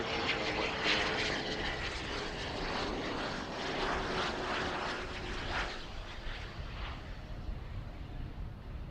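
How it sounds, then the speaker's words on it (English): A private jet landing on the long runway at Zurich Airport, its engines a continuous broad roar holding steady and loud for several seconds, heard from outdoors with no talking. "That's what I mean with smooth landings from private jets."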